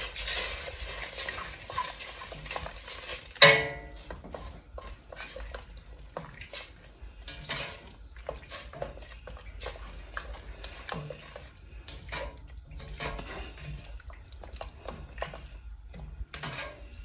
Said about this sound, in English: I'm going to give this a good mix.